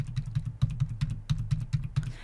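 Keys clatter on a computer keyboard as a mobile phone number is typed into a web form, about a dozen quick, close, moderately loud keystrokes in an uneven rhythm, with no voices.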